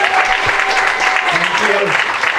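Crowd applause at a community farm gathering, a steady wash of clapping from a gathered audience, loud and continuous, with some voices mixed in.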